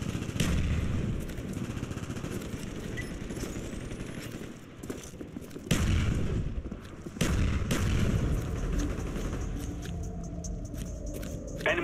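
Mortar strike explosions in a Call of Duty Hardcore Sabotage match, heavy booms and cracking gunfire layered densely over continuous battle din, loud and close with sharp blasts recurring every few seconds.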